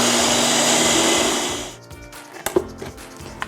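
A kitchen blender whirs loud and steady through cottage cheese oat pancake batter for almost two seconds, then winds down and stops, followed by a few light clinks and knocks close by.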